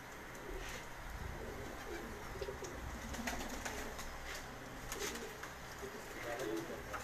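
Pigeons coo softly on a rooftop in Gujranwala during a pigeon-flying competition, amid outdoor background noise, with faint voices and scattered clicks and rustles nearby.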